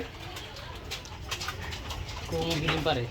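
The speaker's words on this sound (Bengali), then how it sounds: "ওই উপরে গুগু পাখি" A spotted dove coos softly from overhead near a lakeside yard with chickens, its low repeated notes coming through outdoor background noise with voices nearby.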